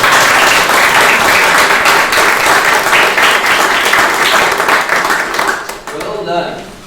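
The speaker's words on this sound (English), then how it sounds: "And applaud each other." A standing crowd at a community peace commission meeting applauds one another, dense steady clapping that fills the room for several seconds before thinning out, with a voice and cheer rising near the end.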